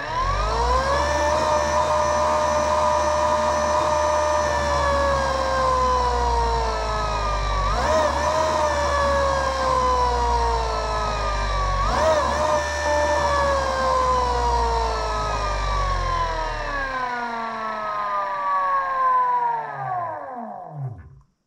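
An electric dirt bike motor runs on a bench test, letting out a loud, sustained whine whose pitch holds steady, dips briefly twice, then falls away as the motor spins down at the end.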